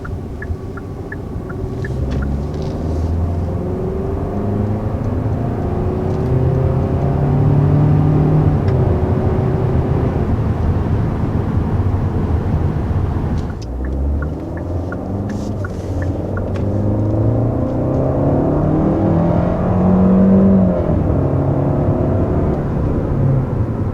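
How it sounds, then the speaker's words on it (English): A 2021 Kia K5 with a 1.6-liter turbocharged four-cylinder making 180 horsepower accelerates up to about 50 mph, its engine note rising through gear changes under steady cabin road rumble, with no talking. "That was our first acceleration up to about 50 miles an hour in this K5."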